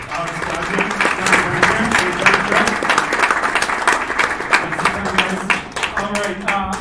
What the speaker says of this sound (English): Everybody, a round of applause for Alex Gutman.